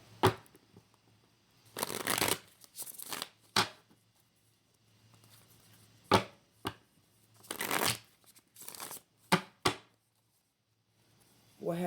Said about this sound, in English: I gotta shuffle, y'all.